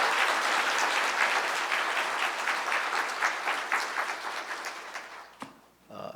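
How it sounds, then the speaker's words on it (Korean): A church congregation at a Sunday service claps together in a full, steady wash of hands that slowly thins and fades, ending with a few scattered claps and a brief knock. "우리 하나님 앞에 영광의 박수로 영광 돌리겠습니다"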